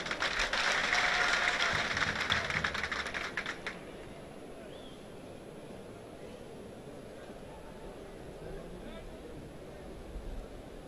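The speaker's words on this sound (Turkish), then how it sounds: "Değerli hocama da bir moral alkışı istiyoruz." Spectators at the Kırkpınar oil wrestling final in Edirne applaud the referee, a loud burst of massed clapping for about three and a half seconds that cuts off into quieter crowd ambience.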